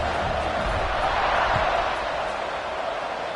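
A football stadium crowd at kickoff after a touchdown extra point gives a 14-7 lead, a steady distant roar of many voices with a faint thump partway through.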